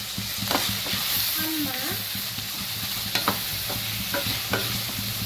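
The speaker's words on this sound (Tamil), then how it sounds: "நல்லா வதக்கிக்கோங்க" Ingredients sauté in a pan under a steady sizzle, with repeated scraping strokes of a spoon stirring and a few sharp knocks; a voice briefly speaks.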